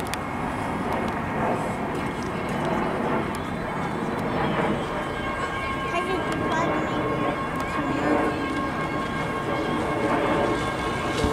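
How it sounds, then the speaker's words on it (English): Train 509 rolls past in a steady, loud wash of rumbling wheel and engine noise that holds for the full stretch without a break, with voices talking over it. "This train is a pretty good one."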